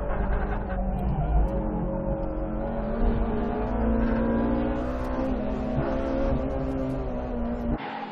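Race cars powering through an S-shaped corner on a track, engines droning and revving steadily and close throughout, with pitch shifting as they accelerate; no talk.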